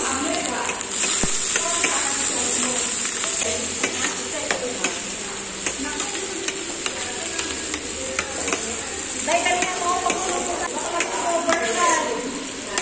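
Chicken adobo stirred in a hot pan, a steady sizzle with frequent scraping and clinking of a utensil against the metal, close and continuous throughout.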